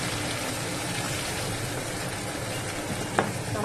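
Spices of cumin, chilli and bay leaf fry in a pan, and a little water goes in to stop them burning. A steady, close sizzle with stirring runs throughout, and a couple of brief clinks come near the end.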